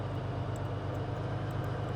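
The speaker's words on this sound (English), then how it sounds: "this is the Z9A utility helicopter" Z9A utility helicopter in the Squad video game, a steady loud low engine and rotor drone with a continuous rumble throughout and no voices.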